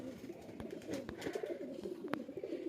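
Pigeons at a pigeon loft give soft, continuous low cooing that stays steady throughout, with a few sharper wing or movement sounds mixed in.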